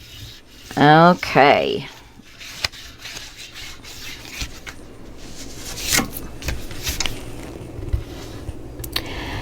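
Paper on a mini album page is burnished with soft intermittent rubbing strokes, close and fairly quiet, after a brief spoken word.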